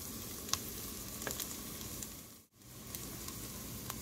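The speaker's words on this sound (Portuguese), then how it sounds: "E tá fritando aqui junto com a cebola." Chopped garlic and onion sizzle in a hot pan, a steady close frying hiss with a few small pops and one brief break partway through.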